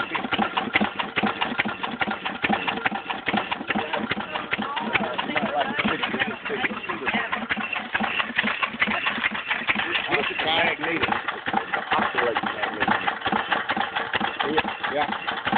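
An antique tractor engine runs slowly at about 150 RPM, giving a steady, close, rhythmic chugging that continues throughout while people talk over it.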